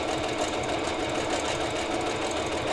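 A sewing machine runs steadily, stitching stretchy knit fabric for toddler leggings, with a continuous close whir and rapid needle rhythm and no pauses.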